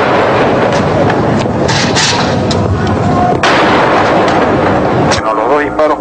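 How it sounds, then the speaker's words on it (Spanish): Two warning gunshots are fired during the hostage crisis at the Japanese ambassador's residence in Lima. Loud, sharp bursts cut through a thick, rumbling din, and voices can be heard around them. "los 2 disparos que han escuchado es una advertencia"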